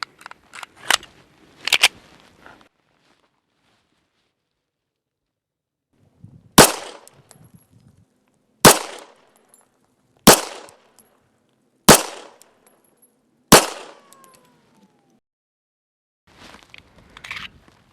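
Sharp 9mm pistol shots from a Rock Island Armory 1911 crack out at the range. There are two quick early shots and then five evenly spaced loud reports, each ringing off briefly, with no talk.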